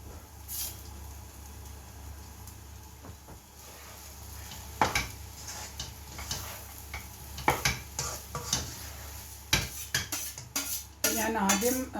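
Cooked and cooled basmati rice being stirred into egg in a hot pan for egg fried rice, the spatula clattering and scraping against the metal in uneven bursts over a low sizzle, close with no voices.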